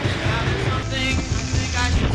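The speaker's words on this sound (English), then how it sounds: "The wind's actually pushing the bike around a lot." Strong wind buffets the microphone in a steady, rumbling roar during a gravel and singletrack bike ride at around 4,000 feet, loud and continuous without a break.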